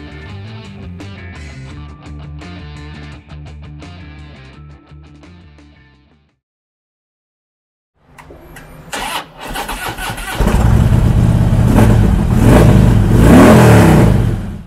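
A 2016 Harley-Davidson FLHTCU Electra Glide Ultra Classic with ABS cranks over and catches, then revs loudly and steadily up close, following a stretch of unrelated music and a brief silence.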